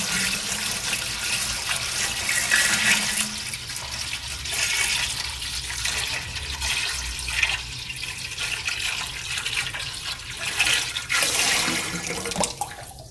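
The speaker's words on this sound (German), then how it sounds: "füllen wir erstmal unser Wasser ein" Water pours steadily into a Klarstein Brauheld Pro 45 brewing machine, a continuous splashing rush that runs for the whole stretch with no talking.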